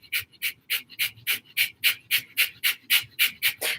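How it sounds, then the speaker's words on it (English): Breath of fire during a chakra meditation: rapid, evenly spaced short forceful breaths through the nose, about three per second, close and clear with no talking. "we're going to activate the power center with breath of fire"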